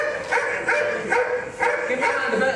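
A dog barks and yips in repeated bursts, close and fairly loud, while people search and call out nearby, their voices mixed with the barking.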